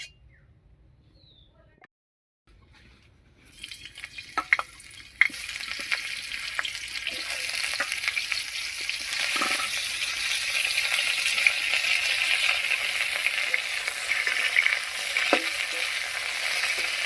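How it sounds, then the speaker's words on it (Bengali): Cauliflower fries in mustard oil in a wok, starting with a quiet pause, then a loud hiss as the florets hit the oil, settling into steady close sizzling with occasional spoon scrapes and pops. "এবার কড়াইয়ে সরষের তেল দিয়ে ফুলকপিটা একটু ভেজে নিচ্ছি।"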